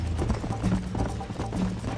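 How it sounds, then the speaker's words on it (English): Horse hooves clip-clopping in the video game Red Dead Redemption, a steady close trotting rhythm of several hoof falls with faint background sound. "Calma, cavalo, não me derruba."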